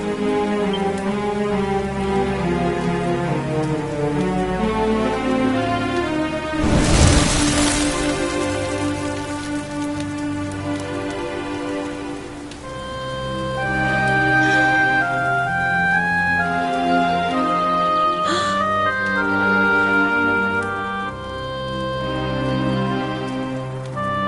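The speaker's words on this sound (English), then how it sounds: "Looks like the rain's dying down." In the video game Dragon Quest XI, steady rain patters as soft background hiss beneath melodic game music, with one brief loud burst early on.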